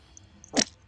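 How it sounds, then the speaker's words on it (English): A single short, sharp sneeze burst near the mic, loud against an otherwise quiet background during a horror game stream. "That was a sneeze. Very bad sneeze."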